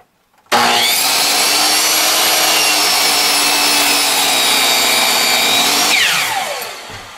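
A power tool cuts through a piece of spalted wood in one loud, continuous, steady whine lasting several seconds, then winds down at the end, with no talking.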